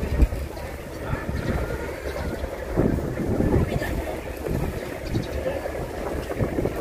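Wind gusting across the microphone at a fishing village harbour on Cheung Chau island, a continuous low rumbling buffet that rises and falls, with faint background activity and no clear speech.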